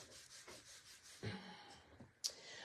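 Paper pressed onto a metal die to make a stamp is rubbed hard by hand, giving scratchy back-and-forth strokes at close range, with a sharp tap near the end.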